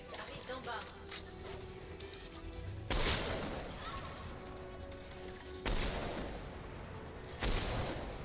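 Bursts of gunfire in Mass Effect 3 against Cerberus troops, with dense crackling shots and a few sharp louder blasts, under someone talking over the action.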